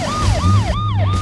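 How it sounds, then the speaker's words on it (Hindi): Cartoon police car siren, a loud close wailing tone sweeping up and down in a steady repeating cycle, with nothing else heard. "नीली पुलिस कार सायरन बजाती हुई घटनास्थल पर पहुंचती है"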